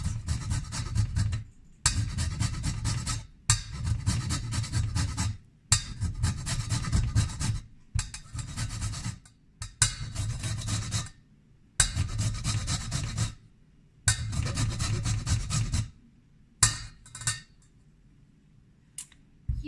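A lime is zested on a grater in a series of close, rhythmic rasping strokes, about ten bursts separated by short pauses, fading out near the end with no speech.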